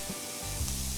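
Vegetable topping for crostini sizzles and fries in a pan with fresh parsley, a steady close hiss that swells briefly with stirring, no voices.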